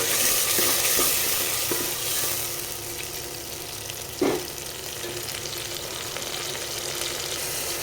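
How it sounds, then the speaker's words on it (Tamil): Ground tomato frying in a pan for a dried fish curry: a loud continuous sizzle close up, with occasional stirring scrapes and one sharp spoon knock midway. "தக்காளி ஓரளவு வதங்கிருச்சு."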